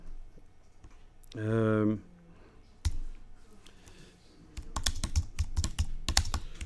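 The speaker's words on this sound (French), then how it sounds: "je tape, j'enfonce la touche retour chariot sur le clavier" Typing on a computer keyboard with the Enter key pressed: a burst of quick clicking keystrokes, a single sharp key press, then a run of louder irregular taps, close up, with a voice sounding in the room.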